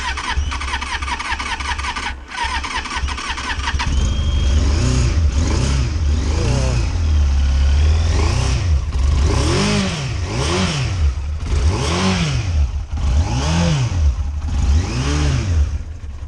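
A worn, high-mileage Yamaha Fazer 1000 motorcycle cranks over and catches, then runs roughly on a few cylinders, its uneven engine note rising and falling in repeated loud rev surges close by.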